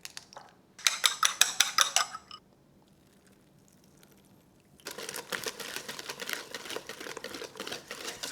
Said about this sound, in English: I switched to the whisk. Now, I like to beat my eggs prior to